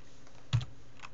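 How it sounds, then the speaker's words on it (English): A single soft keystroke on a computer keyboard, quiet and brief, with faint room noise around it. "I have to type icon"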